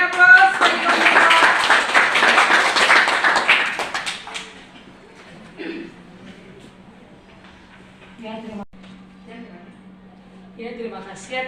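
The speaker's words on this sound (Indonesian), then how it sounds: "Berikan aplaus bagi kelompok 2." A classroom audience claps for a group presentation, a burst of brisk applause lasting about four seconds that fades out, followed by quiet room tone and scattered speech.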